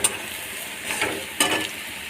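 Onion, garlic, red chili powder and turmeric powder frying in a pan, a steady close sizzle with two louder bursts as the mixture is stirred, and no talk.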